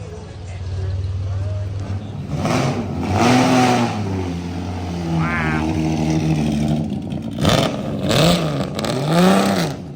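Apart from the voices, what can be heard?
loud 1957 Jaguar D-type car engine revving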